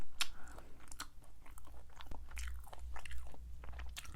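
Spicy chicken feet being chewed up close, with soft wet crunches, bites and smacking in an irregular rhythm, fairly quiet with no talk.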